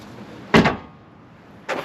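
A door on a 2000 Chevrolet Silverado 1500 extended cab shuts in a shop with a close, solid double thud, and a second door closing sound follows a second later.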